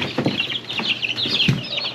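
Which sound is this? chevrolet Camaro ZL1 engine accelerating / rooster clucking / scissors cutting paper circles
rooster clucking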